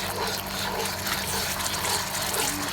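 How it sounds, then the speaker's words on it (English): Water poured into a sugary gochujang paste for lamb ribs, a steady close gush and trickle with a bubbling sizzle underneath, continuous and without talk. "So just add a little bit of water there, just to bring it down."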